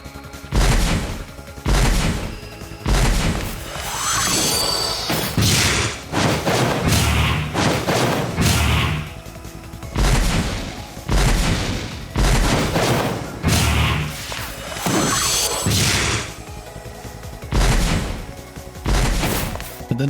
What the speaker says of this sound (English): So here's a little bit of the sound effects of the Flame Visit whenever it's fired.